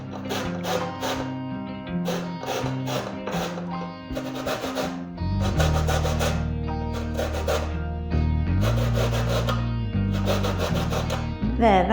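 Lemon rind rasped against a grater in quick, rhythmic bursts of scratchy strokes, close and fairly loud over steady background music.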